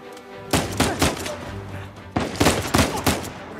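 Gunfire from the video game Uncharted 4 bursts out in two clusters of sharp, loud shots, a few quick reports, a pause with low rumble, then another rapid volley.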